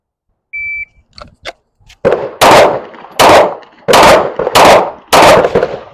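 A short electronic shot-timer beep is followed by about six sharp, loud pistol shots from a Shadow Systems DR920L at a range, fired in a quick, slightly uneven rhythm.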